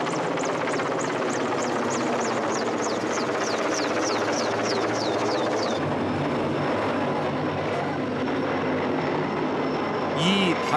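Helicopter engine roar and rotor noise, loud and steady, above a rescue demonstration by firefighters hanging from it at an outdoor festival in Belarus, with crowd noise beneath and birdlike chirps early on.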